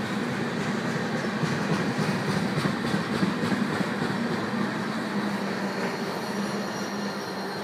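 A Lionel-MTH model single-dome tank train rolls along its track with a steady rumbling roar and faint wheel squeal, close and continuous, with no voices.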